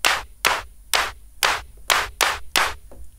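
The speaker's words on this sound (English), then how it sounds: "Hey, that sounds like a 909 almost, with a little bit more snap." Seven punchy synthesized drum hits built from three overdriven oscillators in Logic's Alchemy synth, 909-like with extra snap, evenly spaced about half a second apart, each with a bright noisy attack and short decay, alone with no talk.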